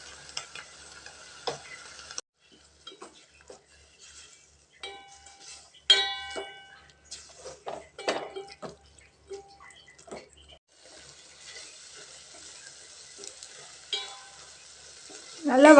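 Vegetables sprinkled with turmeric sauté in a pan with fresh mochai beans, giving intermittent close sizzling and spatula scrapes in bursts between quiet pauses.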